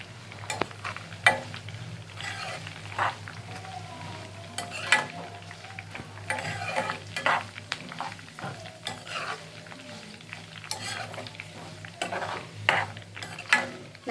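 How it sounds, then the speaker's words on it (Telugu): Homemade hair oil remedy stirred in a pan over a low flame, a spoon scraping and clinking against the pan in irregular strokes over a steady quiet sizzle of frying, close up, with no voices. "ఈ బాగా కూడా బ్లాకిష్ వచ్చే వరకు కూడా మనం ఆయిల్లోనే ఉంచి సిమ్లో పెట్టి కలుపుతూనే ఉండాలి"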